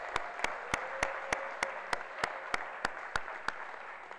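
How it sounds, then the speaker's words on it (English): Slow, evenly spaced single claps ring out about three times a second, crisp and close over a low background murmur, as a small audience applauds the boosters at a high school college signing day. "Please, a round of applause for the boosters for providing this"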